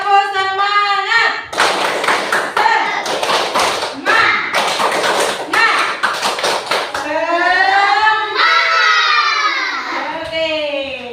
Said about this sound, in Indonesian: ayo kita tepuk semangat bersama-sama